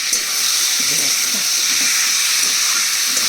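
Ghee sizzles steadily in a pan while fish curry masala fries, a loud, continuous close-up hiss with faint stirring underneath.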